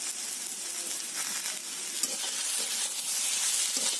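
Tomato with turmeric and Kashmiri chilli powder sautéing in a pan, a steady close sizzle with faint stirring, even and unbroken, no voices.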